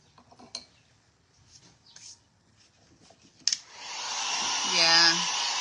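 After some quiet clicks and handling noises, a hair dryer switches on with a sharp click and blows a loud, steady whoosh while drying a wood house decor craft, and a faint voice is heard briefly under it.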